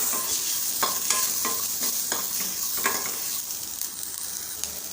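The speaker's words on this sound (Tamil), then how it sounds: "வெங்காயம் ஒரு ரெண்டு மூணு நிமிஷம் வதங்கட்டும் மிக்ஸ் பண்ணி விட்டுக்கலாம்" Onion, green chili and curry leaves sauté in a kadai, a bright steady sizzle overlaid with a run of quick spatula scrapes and stirs, near and fairly loud, no voices present.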